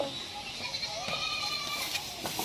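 Several goats bleat in a row at a rural roadside in a Bhojpuri-speaking village, the calls fairly close and overlapping against steady outdoor background noise, with no one talking over them.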